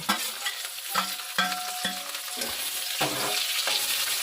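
Fried vegetables tossed with a spatula in a pan with cinnamon and cloves for fried rice, rhythmic metal scraping strokes over a steady sizzle, close and without voices.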